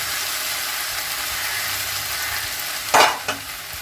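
Ridge gourd and water spinach frying in a pan, with a steady sizzle throughout and a short louder burst of stirring near the end.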